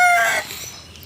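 A rooster crows once, loud and close, the call falling away within about a second with no other sound around it.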